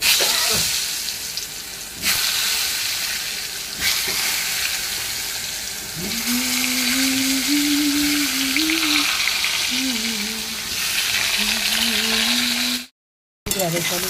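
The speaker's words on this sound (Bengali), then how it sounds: "ঢেঁড়স আলু ভেজে দিচ্ছি।" Okra and potatoes fry in hot oil in a home kitchen, giving a loud, continuous sizzle, with a wavering tone over the middle and a brief cut near the end.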